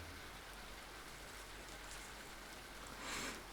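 Steady rain falls in a dense, even wash of hiss, with a slightly louder swell near the end and no speech.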